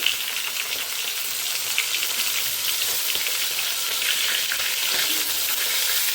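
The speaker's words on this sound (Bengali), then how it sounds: "মাছটা ভাজা হয়ে গেছে, মাছটা তুলে নিচ্ছি" Fish fries in hot oil in a pan before going into a green-banana fish curry, a loud, even crackling sizzle that carries on without pause or talk.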